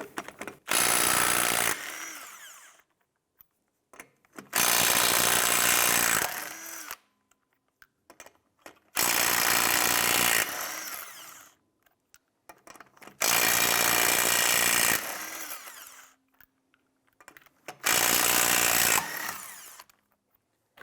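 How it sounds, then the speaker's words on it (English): A power impact tool on a 19mm socket whirs in five loud bursts of about two seconds each, separated by near silence, as lug nuts come off the rear wheel of a 2005-2007 Ford Five Hundred. "Using your 19mm socket, loosen and remove the lug nuts."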